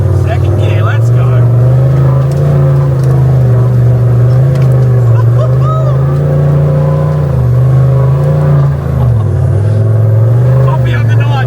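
An off-road vehicle's engine labours and revs in second gear on a rough wheeling track, holding a loud, steady drone that rises and dips with the throttle while voices talk over it.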